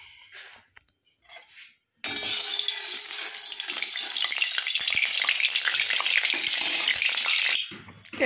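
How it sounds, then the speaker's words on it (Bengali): Black cardamom, cinnamon and dried chillies hit hot oil in a kadai and burst into a loud, sustained sizzle after a couple of seconds of quiet handling noises, then the sound tapers off near the end. "তেল গরম হয়ে গেছে, এর মধ্যে আমি বড় এলাচ, দারচিনি, শুকনো লঙ্কা দিয়ে দিলাম।"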